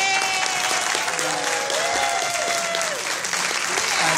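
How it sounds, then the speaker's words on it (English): A group audience at a casino presentation applauds steadily, dense clapping at fair volume with faint voices and a few whoops or calls rising over the clapping. "if you could give them a round of applause."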